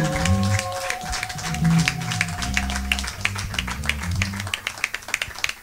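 A church congregation applauds and cheers in praise of God, dense clapping running throughout with crowd voices mixed underneath and a sustained musical tone behind.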